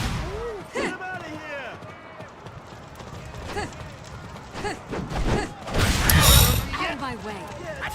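Heavy strikes from a cannon attack in the Dead or Alive fighting game, played as Rachel, land as a string of punchy impacts, with a dense burst around the sixth second, over continuous game sound and someone talking.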